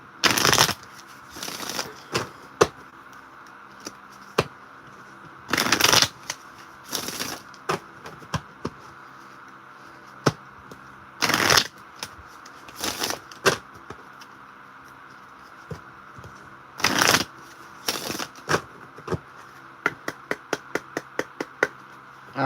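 A deck of spiritual reading cards being shuffled in bursts of brisk riffling and flicking, with pauses between, close and fairly loud, ending in a quick run of single card snaps.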